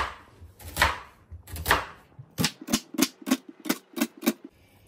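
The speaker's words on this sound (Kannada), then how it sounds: "ಒಂದು ದೊಡ್ಡ ಆನಿಯನ್ ಇರ್ತದೆ ಅಲ್ವಾ, ಅದರ ಹಾಫ್ ತಗೊಂಡು ಅದನ್ನ ವರ್ಟಿಕಲ್ ಆಗಿ ಕಟ್ ಮಾಡ್ಕೊಳ್ಬೇಕು" A knife chops through half of a large onion on a board in two slow, separate cuts, then a quick run of about eight crisp, evenly spaced chops. Each one is close and distinct, and nobody speaks.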